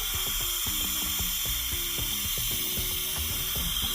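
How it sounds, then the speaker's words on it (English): A garden hose being pulled out from a ratcheting reel in a backyard chicken plot, giving a continuous run of rapid mechanical clicks over a steady hiss of running water. "So Brian is getting the hose for me now."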